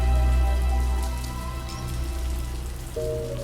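Steady rain falls before dawn on a street under fading streetlights, a continuous wash of drops with a low rumble and faint tonal hum, no voices.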